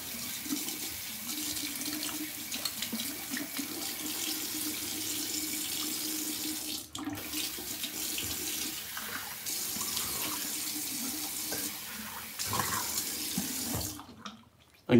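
Hot water runs steadily from a sink tap during a safety razor shave, a continuous close splashing flow that goes on almost unbroken, briefly dropping out near the middle and again just before the end.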